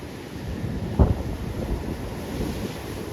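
Sea waves break along a shore in a steady, rushing wash mixed with wind buffeting the microphone, with one brief louder surge near the start; no voices.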